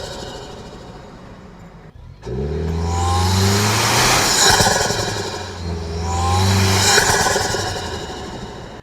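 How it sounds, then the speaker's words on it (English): A 2025 Toyota 4Runner Trailhunter engine revved twice through its snorkel, each loud close rev rising and falling after a short quiet start, with no talking. "Now I want you guys to hear the snorkel as well."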